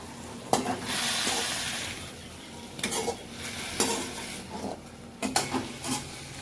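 Thoothuvalai leaves sautéing in oil in a pan, with a steady sizzle and a few sharp spoon scrapes and clanks as they are stirred, close up and with no voices.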